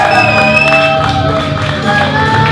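A crowd cheering and whooping at a live wrestling show during a heavyweight tournament qualifier, a loud sustained roar with shouts and scattered clapping throughout.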